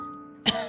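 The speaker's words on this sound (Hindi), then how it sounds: "गले में खराश की वजह से खांसी आ रही है।" A single short cough from a cartoon mother with a sore throat, sharp and close, following a brief low hum.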